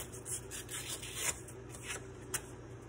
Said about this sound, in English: And then I take some sandpaper, which is wet or dry sandpaper.